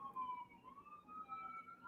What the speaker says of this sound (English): these sirens are coming after me